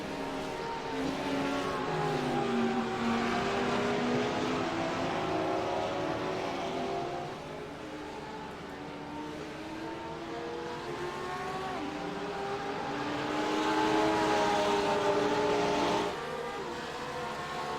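GT3 race cars lapping the Lime Rock circuit, several engines droning and shifting pitch as they pass one after another, steady and fairly loud with no talk.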